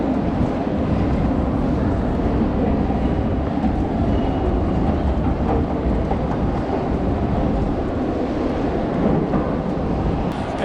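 A metro train passes through a Lisbon station, filling the space with a steady, loud, low rumble and roar that holds unbroken from start to finish, with no voices over it.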